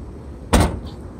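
A hotel room door swings shut with a single loud, close thud, leaving a faint room hum behind.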